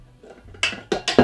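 A mixing bowl is handled in a home kitchen while dough is coated in olive oil, giving three or four short, close knocks and clinks of ceramic against a counter in quick succession, with no talking.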